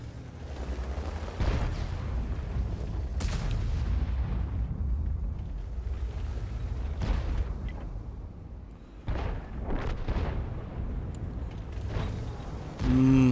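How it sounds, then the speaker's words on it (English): Artillery fire and shell explosions in the World of Tanks video game, featuring a WZ-120-1G FT tank destroyer: several heavy booming blasts with rumbling tails and creaking, spaced irregularly over the stretch, loud and close. "Oh, that was a nice shot on the artillery's part."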